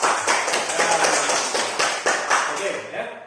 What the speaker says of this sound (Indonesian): Oke, tepuk tangan dulu kita semuanya.